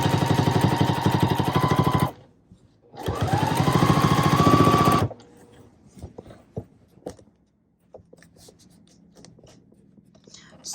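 A sewing machine stitches a quilt's binding with white thread, running in two loud steady bursts of rapid needle rhythm separated by a short pause, then stopping and leaving quiet handling clicks and faint background noise.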